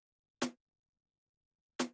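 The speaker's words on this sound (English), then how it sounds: "The snare burst without compression sounds like this." Two isolated snare drum hits without compression, spaced well apart in complete silence, each a short crisp crack that decays quickly.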